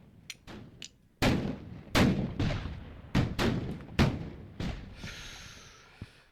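Cannon fire sound effect from a Napoleon at War board game played as the French at Wagram: a series of about seven sharp booming blasts at irregular intervals, each with a short rumbling tail, fairly loud with no talk.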